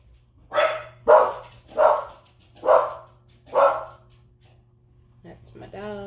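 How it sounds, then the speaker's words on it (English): Dogs bark nearby in five loud, evenly spaced bursts, followed by a brief voice near the end. "That's my dogs."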